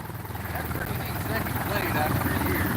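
A vintage Ford Model A engine on a Pietenpol homebuilt airplane runs up to speed, a steady, loud, throbbing propeller-driven drone that holds throughout without pause.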